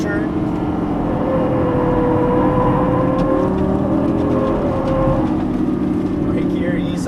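A Lamborghini Gallardo LP550-2 engine under light throttle on a track, a steady, loud drone with a faint rise that runs throughout beneath a driver's continuous talk.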